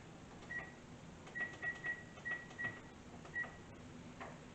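Oven control panel being set to preheat to 325 degrees, a series of short electronic beeps from button presses over a steady low kitchen hum.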